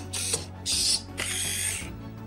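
An Autoking Iron Man Mark V helmet's mechanism gives off three close, brisk ratcheting clicks and whirs, one right after another, with nothing else heard.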